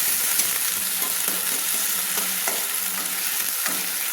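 Ginger, garlic and green chilli paste is stir-fried in a pan for a fish-head kosha, hissing in a loud, steady sizzle broken by repeated scraping strokes of a spoon.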